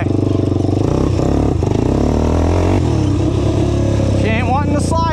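A Honda 400EX ATV engine with a clapping fault revs hard in second gear, loud and close with a raspy, buzzing drone that climbs and holds. A voice is heard partly over it.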